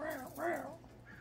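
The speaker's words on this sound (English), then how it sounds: "The crows agree." Crows caw twice close by: two harsh, arching calls in quick succession, followed by a softer trailing note.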